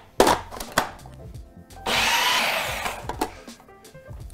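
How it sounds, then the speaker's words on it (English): A food processor loaded close to its maximum with raw vegan portobello meatloaf mixture runs in one loud, steady whirring burst of about a second, after scattered knocks and scraping sounds. "that's about the maximum we can put in this food processor"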